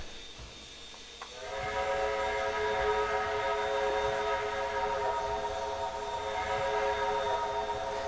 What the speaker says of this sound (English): I kind of like that whistle, but it's definitely got a lot of background echo